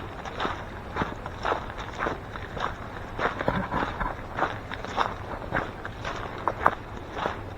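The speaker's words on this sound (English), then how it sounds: "So we're walking through here." Footsteps crunching along a woodland path in Maine after storm damage, a steady walking rhythm of soft, fairly quiet steps over leaf litter and debris, with no talk.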